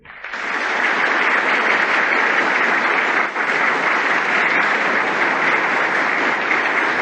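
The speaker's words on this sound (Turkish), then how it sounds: "Fevzi Paşa bu vatansever insanların hayatlarını hiçe sayışlarını heyecanla karşılamış, Durak Bey'i içtenlikle alkışlamıştı" Sustained, dense applause from a large crowd in a parliamentary assembly hall, rising quickly and holding steady and loud for several seconds with no voices on top.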